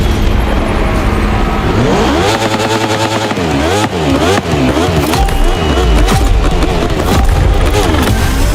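Racing motorcycle engine in The Crew Motorfest, loud and close, revving up and down in rapid swooping waves through gear shifts across the whole stretch.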